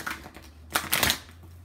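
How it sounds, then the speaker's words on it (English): Tarot cards riffle and shuffle in two quick bursts, a soft papery flutter nearby with a faint low hum underneath and no speech. "these cards have been cleaned with sage and you are watching me shuffle them"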